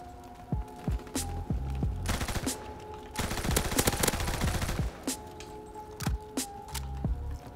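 Rapid-fire ORSO gun in Call of Duty WW2 firing in short bursts and one long sustained volley, with loud, dense cracks and no talking.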